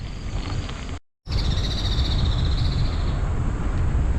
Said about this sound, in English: I just got interrupted by a bird.